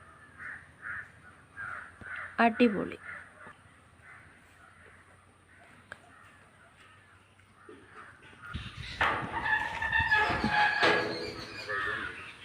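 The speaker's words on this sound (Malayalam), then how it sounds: "കിളികളുടെ ഒച്ച മാത്രം." Crows cawing alongside other birdsong in a quiet village on a breezy morning: scattered calls at moderate distance, then a louder, denser burst of cawing near the end, with one brief spoken word.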